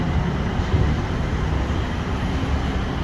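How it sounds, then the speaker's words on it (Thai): A Bangkok Skytrain rumbles past near the Siam sky walk, a loud, continuous roar of rail and city traffic with no talking. "รถไฟฟ้าจะวิ่งผ่าน"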